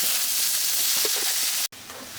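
Potatoes and tomatoes fry in hot oil for a homestyle fish-oil chorchori, a steady close sizzle and hiss running evenly before breaking off abruptly near the end and resuming more quietly.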